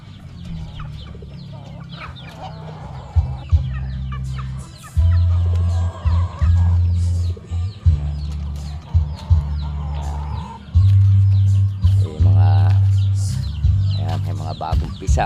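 Hens cluck repeatedly at close range among newly hatched chicks in a poultry pen, with low throaty calls in uneven bursts and faint higher chirps scattered between them.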